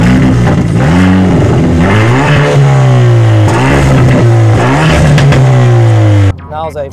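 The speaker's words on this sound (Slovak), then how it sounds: "Ten výfuk môže byť takýto hlučný a strieľavý" Hyundai i30 N Performance on a track, its engine revving hard through repeated rising pulls with a loud, close exhaust note, then cutting off abruptly near the end.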